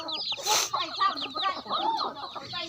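Chicks on a small farm in Laos peep close by in a busy, continuous run of high chirping calls that overlap throughout.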